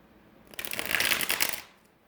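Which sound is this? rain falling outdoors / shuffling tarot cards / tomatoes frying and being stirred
shuffling tarot cards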